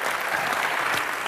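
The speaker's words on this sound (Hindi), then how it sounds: "कंगना और राजकुमार के लिए जोरदार तालियां।" Dense, steady applause fills the room from a studio audience at a comedy TV show taping, loud and continuous throughout the short burst.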